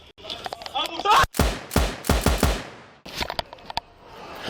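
Gunfire erupts during a police confrontation that turns into a shootout: a rapid volley of loud, sharp bangs fired in quick succession, with shouting voices mixed in around the shots.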